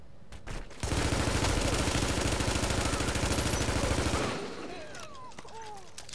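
Sustained automatic gunfire in The Division video game's Dark Zone, a long dense burst of rapid shots lasting about three seconds, then fading into scattered distant pops.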